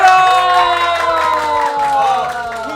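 A studio audience bursts into loud, close clapping and cheering with excited shouts, with music playing underneath.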